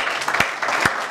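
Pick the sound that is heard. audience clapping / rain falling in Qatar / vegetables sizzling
audience clapping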